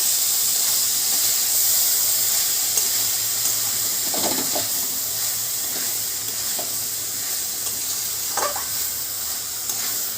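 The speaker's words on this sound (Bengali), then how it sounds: "ছোলার মধ্যে যে হালকা একটু জলটা আছে সেইটাকে আমি শুকিয়ে নেব একটু কষিয়ে।" Boiled chickpeas fry in a pan for chana masala. A steady, loud sizzle and hiss continue throughout, with occasional brief stirring clicks and no talking.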